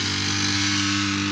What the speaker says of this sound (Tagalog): bali ito pa yung grass cutter ni kapartner.